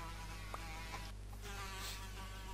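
A fly buzzes steadily in a thin, whining drone in a modded Minecraft game, close and constant, with a couple of faint clicks underneath.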